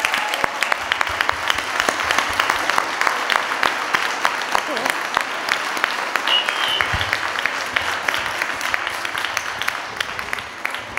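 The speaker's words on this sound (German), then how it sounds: "Der Applaus zeigt's" Audience applause after a talk in Cologne, steady dense clapping with distinct individual claps standing out, continuing evenly for several seconds before tapering slightly.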